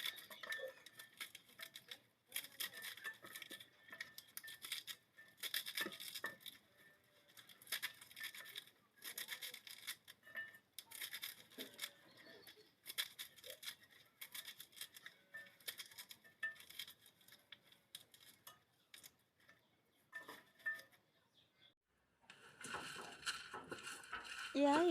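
Leafy greens and tomato being chopped small with a knife, repeated scraping and tapping strokes in bursts close by, with a short pause before a final louder passage.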